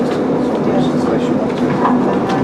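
An Arriva Trains Wales train running on rails near Chester, with steady rumbling wheel noise and faint clickety-clack, with an announcement voice over it.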